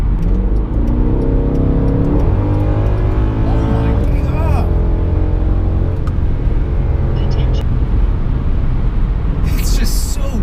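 A Mercedes C63 AMG with a DTK tune accelerating hard, its engine note loud and rising through the revs in a strong continuous drone from inside the car, with someone talking over it.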